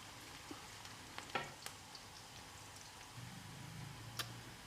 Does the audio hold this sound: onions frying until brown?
yes